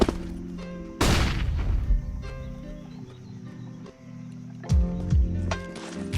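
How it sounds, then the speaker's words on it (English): A flashbang grenade thrown in a video game goes off as one loud, close, broadband burst that fades over a second, set against a steady bed of droning game tones, with further thumps and shots later. "Throwing flashbang."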